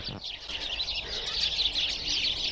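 Small birds chirp and twitter continuously in a dense, steady chorus, with a brief low thump near the start.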